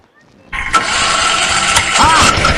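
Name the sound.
tractor engine starting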